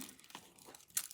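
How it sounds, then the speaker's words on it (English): Green nail-art transfer foil crinkling: a brief, faint, close papery rustle with a sharper crackle near the end, over a quiet background. "And I'm gonna take some transfer foil, green,"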